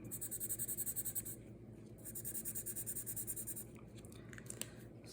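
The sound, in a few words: writing with a pen on paper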